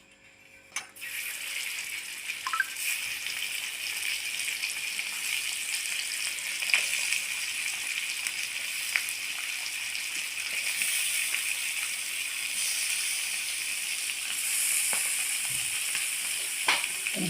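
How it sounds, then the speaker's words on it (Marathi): Dried fish fries in oil on a flat griddle pan with a steady, even sizzle that starts abruptly and continues throughout, fairly quiet and close, with no talking. "आता तव्यामध्ये तेल टाकून हे सुका मासा करून घेऊ आपण"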